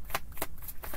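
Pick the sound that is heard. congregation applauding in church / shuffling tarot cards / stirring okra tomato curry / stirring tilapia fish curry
shuffling tarot cards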